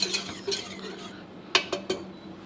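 Cheese sauce in a pot is stirred and smoothed with a metal utensil, giving soft scraping and a few sharp clinks against the pot, close and fairly quiet over a low steady hum.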